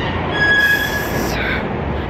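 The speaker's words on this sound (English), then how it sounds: "Taking the trains on the weekend is not fun" A New York City subway train rumbles loudly and close with a sustained high wheel squeal, a steady roar of rolling stock throughout.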